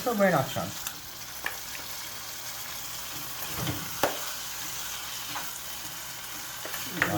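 Chips frying in a pan give off a steady, close sizzle, with a few sharp stirring knocks scattered throughout and no talking.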